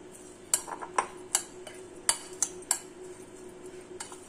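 A spoon clinks and taps against a bowl while beaten eggs are mixed with spices for a bread omelette, with several sharp close clinks coming in an uneven rhythm over a quiet background.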